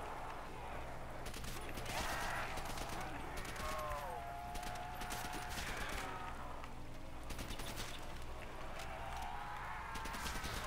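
An MP40 submachine gun fires in rapid bursts inside the Seelow custom zombies map of a video game, with dense crackling gunfire running throughout. A player's voice talks faintly over the shooting.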